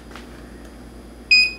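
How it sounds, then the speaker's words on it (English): An electronic beep sounds from a faulty hoverboard under repair indoors, a short bright tone near the end after a quiet hum. "So I'm guessing it's beeping, probably because the other board isn't connected"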